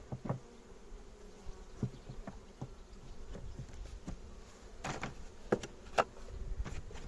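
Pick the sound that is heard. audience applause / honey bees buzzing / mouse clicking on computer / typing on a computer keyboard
honey bees buzzing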